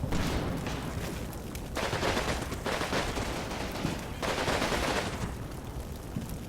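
Gunfire from a WW2 battle in Sicily in the video game Combat Mission: Fortress Italy rattles in repeated bursts and volleys, loud and sustained with little pause.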